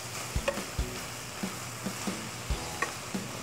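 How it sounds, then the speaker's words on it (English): Ground meat frying in a pan for cheeseburger pancakes, a low sizzle under regular knocks and scrapes as a utensil breaks the meat into small pieces, close and with no talking. "I'm just gonna make sure that we break these pieces up as small as we can"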